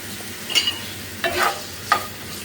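Soft, steady frying hiss in a pan with a few scraping stirs, no talking.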